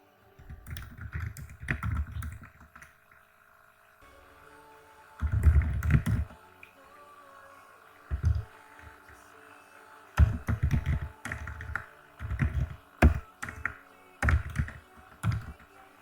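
Typing on a computer keyboard comes in separate bursts of quick, close clicking with quiet pauses between them, some clusters dense and rattling and others short and sparse.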